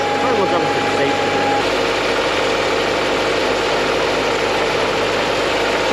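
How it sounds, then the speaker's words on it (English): BMW Z3 roadster engine idles close by, a steady vibrating rumble heard from near the engine bay, with a brief faint tone at the start. "Like, literally, the engine bay is vibrating the eggs"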